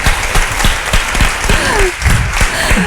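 A Spanish television talk-show audience claps steadily, a full, continuous burst of applause with sharp individual claps standing out near the front and a faint voice or two underneath.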